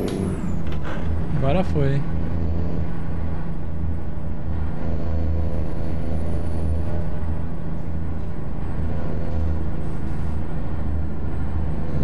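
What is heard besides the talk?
truck in the video game American Truck Simulator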